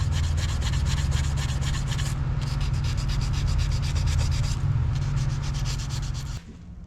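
Surface of a Detroit Diesel 4-53T engine block being smoothed during a rebuild: a loud, continuous close-up abrasive rubbing with a rapid scrubbing rhythm over a low drone, stopping abruptly near the end.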